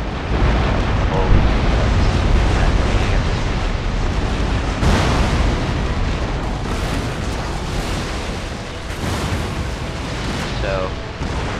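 Heavy naval cannon fire from warships in Empire Total War, a steady dense barrage of booming shots and rumbling blasts layered over one another, loud and continuous throughout.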